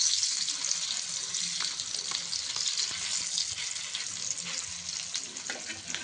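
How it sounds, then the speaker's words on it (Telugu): Fish sizzles steadily in a hot frying pan just after being flipped, a dense, continuous crackle and hiss that stays close and even throughout with no talking. "ఇప్పుడు ఒక సైడ్ ఫ్రై అయిన తర్వాత, కాల్చిన తర్వాత ఇప్పుడు ఇంకొక వైపు తిప్పేసుకున్నాం"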